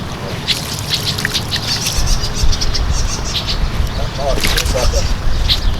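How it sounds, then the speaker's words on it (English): Waterfowl and other birds call near a carp fishing lake, scattered chirps and squawks over a steady, noisy outdoor wash. "it's hard here because of the waterfowl, all the birds and stuff"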